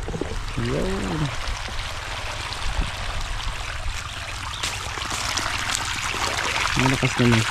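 Steady broadband rush of water pouring from a D4 hose feeding a mixer machine, a continuous gushing flow held at fairly high volume throughout, with someone talking briefly over it near the start and again at the end.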